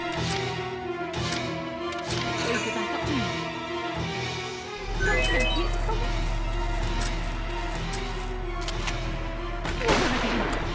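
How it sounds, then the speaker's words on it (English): Rapid gunfire rattles through a Valkyria Chronicles battle, with bursts of shots and machine-gun fire running steadily under a dense game soundscape and a low droning hum that joins partway through. "whoever's down there, will he stop shooting me?"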